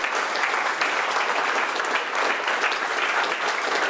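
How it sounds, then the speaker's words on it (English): Dense, steady clapping from a meetup audience at a lean startup lightning talk, sustained and even across the whole stretch with no voices on top. "give Leslie a round of applause"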